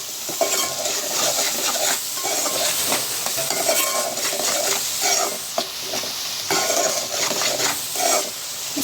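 Village-style egg and dried fish curry sizzles steadily in a pan with salt added, close and continuous, while a spoon stirs and scrapes against the metal in a loose rhythm.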